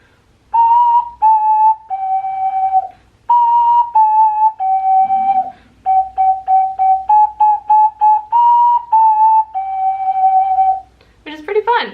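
"Hot Cross Buns" played on a small fingered whistle-like wind instrument, clear steady pitched notes in short phrases repeating the three-note tune loudly and close, with a brief squeak at the end.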